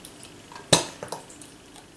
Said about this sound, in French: Je referme mon pot, je secoue, et voilà, mon mélange est prêt.